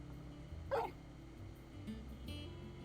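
A dog in Final Fantasy XVI lets out one short, sharp bark over a quiet ambient game background, with a faint second yip shortly after.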